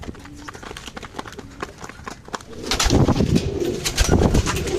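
Racing pigeons gather at a grit feeder, cooing and shuffling, with a scatter of wing flaps and scrabbling feet that grows busier and louder midway through; no one speaks.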